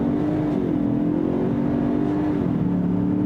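A 2021 Lincoln Corsair luxury SUV with all-wheel drive accelerates hard from a stop, its engine droning steadily and climbing in pitch, close and loud inside the cabin, with no talk.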